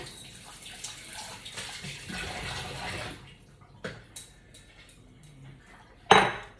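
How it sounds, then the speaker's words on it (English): Water runs from a tap or into a basin in a home bathroom, a steady broadband wash through the first three seconds, then thinning into scattered splashes and dish-like clinks, with a sharp bright clatter near the end. "I don't know if y'all can hear me because of the water"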